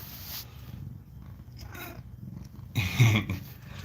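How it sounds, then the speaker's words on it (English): A talkative adoptable cat in Middle Tennessee purrs with a low, soft rumble close by, swelling louder toward the end amid faint room noise. "a talkative, cute cat named Ringo"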